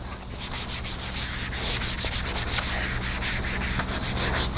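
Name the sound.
wiping leather saddle with damp sponge and saddle soap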